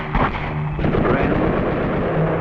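Bren light machine gun firing in wartime archive film, a dense rattle of repeated shots over a continuous low rumble lasting the whole moment, with a faint narrator-like voice in the background.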